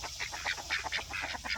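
Roosters and chickens near someone offering kitchen scraps call repeatedly in quick, overlapping squawks and honk-like cries, close and fairly loud, with no talk.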